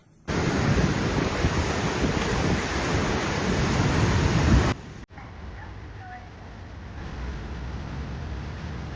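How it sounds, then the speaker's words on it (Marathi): The Rhine Falls waterfall roars as a loud, steady broadband rush for several seconds, then cuts abruptly to a much quieter ambient scene with faint distant sounds. "दुधासारखा पांढरा दिसणारा पाण्याचा मोठा धबधबा"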